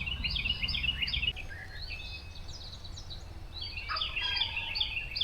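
Faint gobbling from several distant wild turkeys in spring woods, overlapping rattling calls that come and go under a low rumbling background.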